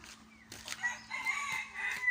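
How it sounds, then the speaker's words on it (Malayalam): A rooster crows amid hens clucking on a farm with black chickens and chicks, short faint calls overlapping at a moderate distance with no talking. "പിന്നെ കുറേ കറുത്ത കോഴികളുണ്ട്."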